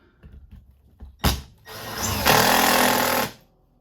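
A power driver sinks a screw through a floor into plywood beneath a kitchen cabinet: a sharp knock, then a loud, continuous mechanical whir that holds for over a second before stopping.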